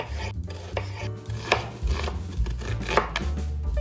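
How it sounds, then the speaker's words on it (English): Repeated knife strokes chop an onion into chunks against a cutting board, a brisk uneven series of close thuds and crunches. "take our onion, cut it in half, peel it, and then cut it into chunks"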